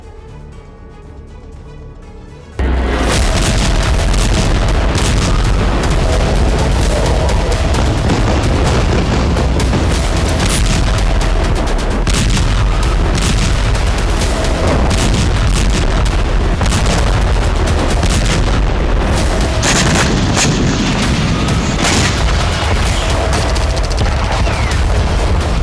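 Heavy blasts and rapid gunfire boom continuously in Gaza near Al-Shifa, the largest hospital, during an IDF operation, loud and dense with no pause after a quiet opening few seconds.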